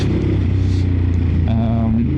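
A Ducati Monster 950 with an aftermarket exhaust gives a steady, deep, throbbing engine rumble, held close and loud for the whole short stretch.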